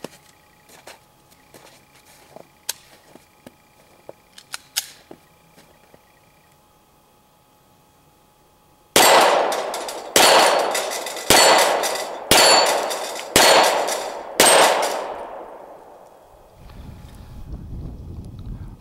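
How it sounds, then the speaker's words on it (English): An unsuppressed Glock 17 fires 147 grain Federal rounds at steel plates; after quiet handling noises come six loud, sharp shots about a second apart, each ringing off with a metallic decay, then wind noise. "Glock 17 unsuppressed, 147 grain Federal."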